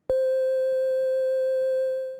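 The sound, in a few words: simple sine wave synth through Spire with effects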